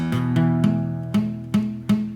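Guitar chords strummed several times in a row, close and clear, with a slightly dull, choked tone as if one string is muted.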